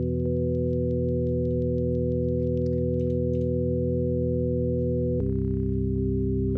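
A sustained synthesizer chord of stacked sine waves holds steady, then shifts abruptly to a new chord, loud and alone with faint clicks above.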